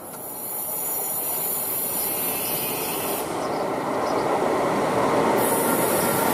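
A train rumbles steadily downhill on the Brenner northern ramp, with broadband rolling noise and a high metallic whine from the wheels, continuous and fairly loud throughout.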